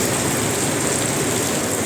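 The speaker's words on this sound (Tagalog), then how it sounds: "Lakas ng ulan." Heavy rain beats down on a waterproof Motowolf saddle bag on an Honda ADV160 motorcycle, producing a loud, dense, unbroken hiss that stays constant throughout.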